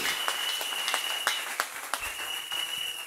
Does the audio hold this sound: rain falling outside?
no